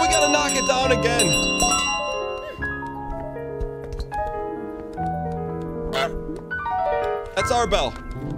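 A bell in Untitled Goose Game, repeated bright tonal chimes ringing over the game's melodic background music, with a person talking over parts of it.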